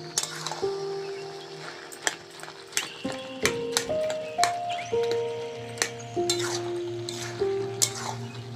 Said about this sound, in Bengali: আলুটা একটু সিদ্ধ হতে বাকি আছে, নাড়তে নাড়তে কষতে কষতে সিদ্ধ হয়ে যাবে।